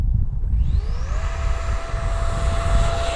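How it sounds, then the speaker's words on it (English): A Marlin 64mm electric ducted-fan sport RC jet on 4s power spools up for a short takeoff run, its whine rising sharply in pitch, then holding a loud, steady high tone over rumbling ground noise. "Let's show them a short takeoff run, shall we? Here we go, short takeoff."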